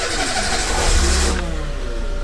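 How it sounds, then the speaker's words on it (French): A Peugeot 106 petrol engine starting after a fuel filter change: a brief cranking burst that catches, revs up, then settles toward an idle, close and loud with no talk. "il ne reste plus qu'à aller faire un démarrage pour que l'essence passe dans le nouveau filtre"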